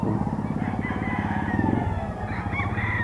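A Sweater bloodline gamecock rooster crows loudly and close at a market, with a long drawn-out call and a second crow starting near the end.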